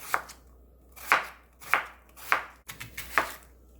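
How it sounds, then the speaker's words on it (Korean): A knife chops radish on a cutting board for a spicy beef soup, giving about six sharp, close cuts at an uneven, steady pace with quiet gaps between them and no talking. "무 썰어줍니다."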